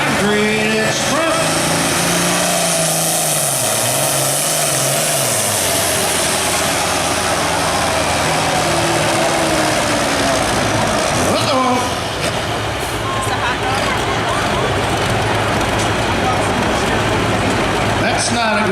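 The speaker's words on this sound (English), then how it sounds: "First tractor of the night, Alan Smith out of Blissfield" A super farm pulling tractor roars at the Chelsea fair tractor pull, its loud engine revving with a climbing then settling pitch and running continuously, with a voice talking over it.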